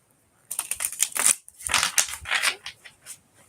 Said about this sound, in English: So I'm going to give it a few shuffles.